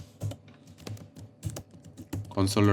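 Code being typed on a computer keyboard: quick irregular key clicks up close, with a voice murmuring over them and growing louder near the end.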